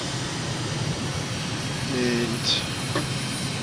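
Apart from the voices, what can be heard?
airplane engine flying in Microsoft Flight Simulator video game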